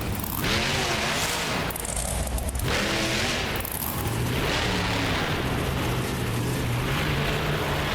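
A monster truck engine in a BeamNG Drive Monster Jam freestyle run at San Antonio, Texas, roars continuously and loudly, with surging revs and bursts of heavier rumble as the truck works through combos, wheelies and ramps.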